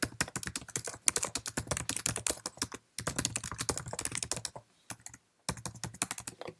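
Fingers type an email on a Mac computer keyboard, quick clattering keystrokes in bursts broken by short pauses, close and fairly quiet, no talk.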